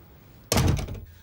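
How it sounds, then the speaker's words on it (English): A door pushed shut in an indoor room, a single solid thunk with a short rumbling tail, close and fairly loud with no voices. "Shut the door."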